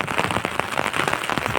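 Steady rain patters densely on a surface, a continuous wash of close, irregular drop hits with no voices.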